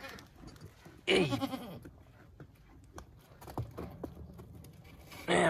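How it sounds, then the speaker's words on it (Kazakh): Goats and young goat kids bleat in two loud bursts, one near the start and one at the end, with quieter rustling and farmyard shuffling in between. "Мынау негізі ананың лағы мүйізде ешкінің."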